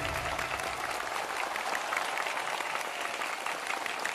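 A studio audience at a crosstalk competition final claps hard and without a break, a dense, even roar of many hands that lasts throughout.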